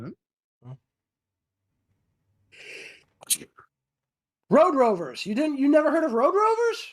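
A single sharp sneeze bursts out in a casual chat, brief and close, with scattered small noises before it and people talking afterward.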